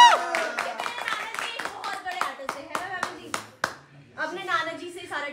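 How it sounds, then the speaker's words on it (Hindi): Family members clap along at a celebration at home, a run of sharp, close hand claps mixed with excited children's voices and talk, pausing briefly before the voices continue. "ओ तालियां तालियां।"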